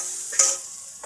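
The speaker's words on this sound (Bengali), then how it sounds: "পেঁয়াজ দিলাম, গ্যাসটা কম রাখবেন।" Onion and garlic paste sizzles in a pan over low heat, a brief soft hiss with one faint scrape or tick, close and quiet with no voices.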